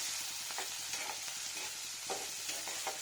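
Spices and chilli powder stirred in a frying pan while making a chana dal dish, a steady soft sizzle with a few light scraping strokes, close and continuous, no voices.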